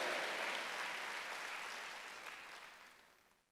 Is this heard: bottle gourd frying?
no